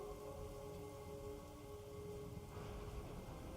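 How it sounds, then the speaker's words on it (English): Steady rain and storm ambience with a dense, constant wash of falling rain and a faint low rumble, heard alone without voices, set as a backdrop at sea. "As you begin to hear a storm in the background."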